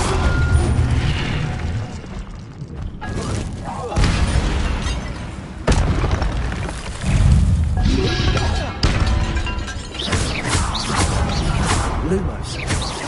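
Repeated Incendio fire spells cast in the video game Hogwarts Legacy, loud booming fiery blasts with crashing impacts arriving in several surges, mixed with combat clatter and occasional voices.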